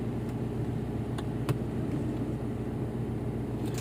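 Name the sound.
vehicle engine starting and running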